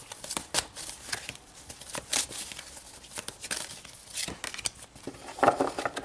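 Tarot cards are shuffled and drawn by hand, giving close, irregular papery flicks and riffles in short bursts, with no voices.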